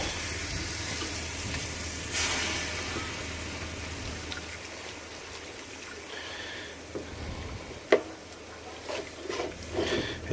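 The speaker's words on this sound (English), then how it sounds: "Some more water." Tap water runs into a pot during gumbo-making in a home kitchen, a soft continuous pouring hiss, followed by a few sharp clinks and bumps of cookware near the end.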